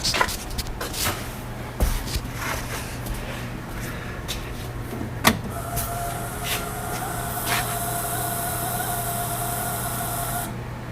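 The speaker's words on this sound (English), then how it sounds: "Fuel pump sounds a little different. Sound a little bit louder." A 2013 Wildcat engine cranks and starts, then idles steadily with a continuous, slightly loud fuel pump whirring hum and scattered clicks and knocks.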